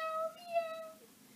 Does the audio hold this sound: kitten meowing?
yes